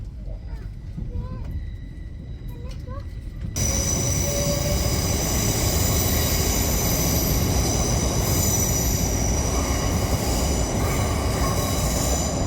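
An LNER Azuma train pulls into Newcastle station with a loud, steady rumble of wheels and carriage noise that swells after a few seconds. It continues close and unbroken to the end, with faint squeals on the rails.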